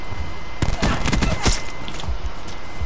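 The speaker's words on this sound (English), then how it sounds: "You just got hit with a shotgun twice in the head" Shotgun blasts go off in a video game, a quick cluster of loud, sharp bursts in rapid succession followed by a fainter shot, over steady background game noise.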